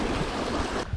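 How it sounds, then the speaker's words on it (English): A fast, raging wilderness creek rushes past, close and steady, in a brief burst of broadband water noise with no voices. "So go back across the raging river here."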